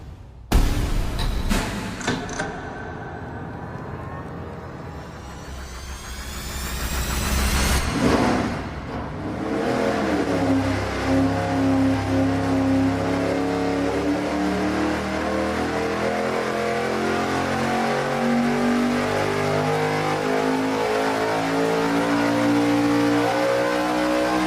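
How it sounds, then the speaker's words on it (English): An engine running bank-to-bank batch fire EFI on a dyno starts with a few sharp bursts, then climbs into a long, loud, sustained rev. Its rising harmonics sweep steadily upward as it pulls through the run. "Our first run on this engine is going to be bank-to-bank."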